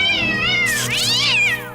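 A cat meows loudly and close in a drawn-out, wavering cry that rises and falls, sounding tense and distressed, in a tense scene from an action thriller film.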